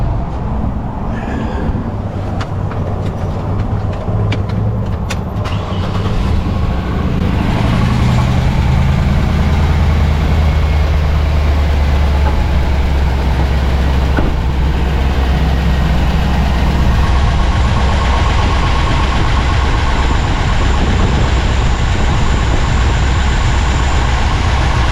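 A truck engine with its cab tilted up turns over and settles into a loud, steady diesel idle, a continuous low rumble that holds close and even throughout.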